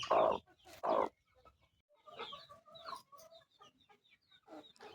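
A country hen clucks close by while sitting on her eggs, with two loud clucks at the start followed by softer, scattered murmuring clucks.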